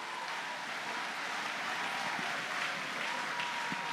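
Sustained applause from a church congregation fills the space, steady and dense throughout without pause, with only a faint voice under it.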